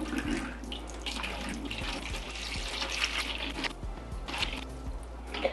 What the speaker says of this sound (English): I'm actually just gonna fill this up with some fertilizer water